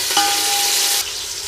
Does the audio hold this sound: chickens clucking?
no